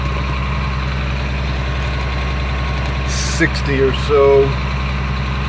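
A Cat diesel engine in a 2004 Blue Bird school bus runs at a steady high idle, a constant low drone throughout with a person talking over it and a few brief clicks near the end.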